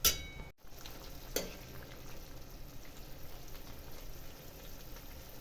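Poha with potatoes roasting in a pan on low heat makes a soft, even sizzle that continues throughout, with a couple of faint knocks near the start.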